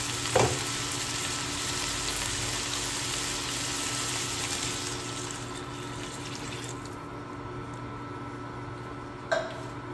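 Pork pieces sizzle and bubble in a pan with added water, a dense continuous frying hiss close by, with a couple of sharp clinks of a utensil near the start and end.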